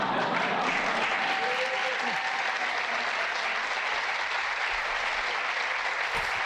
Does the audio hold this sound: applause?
yes